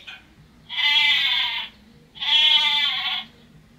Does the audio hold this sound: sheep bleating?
yes